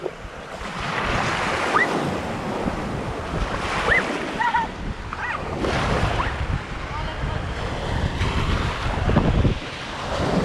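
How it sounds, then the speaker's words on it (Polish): Ocean waves washing onto the shore on a cold, bright day, a loud continuous surf roar mixed with microphone wind buffeting and a few faint bird calls. "Ale jakie fale dzisiaj fajne są, nie?"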